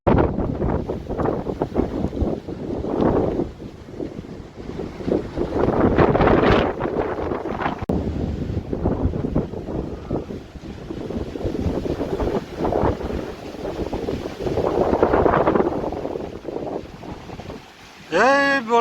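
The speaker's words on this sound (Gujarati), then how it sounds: "પવન બહુ લાગે" Strong wind gusts buffet the microphone on a hilltop temple site, a loud continuous roar swelling and easing in waves, with a brief sharp sound at the very end.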